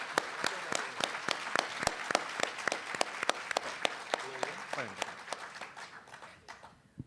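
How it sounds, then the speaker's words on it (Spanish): An audience at an accounting and auditing seminar claps in a sparse, evenly spaced round of distinct hand claps that slows and fades out, with a voice briefly speaking underneath. "Bueno, un aplauso."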